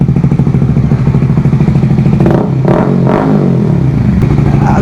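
A Honda CBR150R motorcycle fitted with an Akrapovic muffler revs loudly up close, a deep throbbing exhaust burble punctuated by two or three sharp throttle blips that rise and fall.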